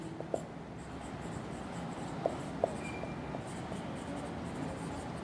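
Marker or chalk writing on a board during a Bengali physics lecture on current electricity, with a few short scratchy strokes and taps over a steady room hiss, no talking.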